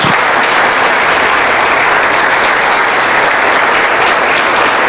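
A church congregation at an Easter Sunday service bursts into loud, continuous applause, dense and steady from start to finish with no speech above it.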